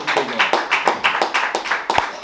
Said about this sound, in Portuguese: Aplaudo o Senhor.